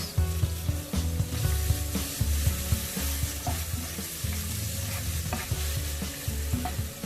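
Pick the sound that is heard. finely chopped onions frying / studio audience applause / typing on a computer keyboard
finely chopped onions frying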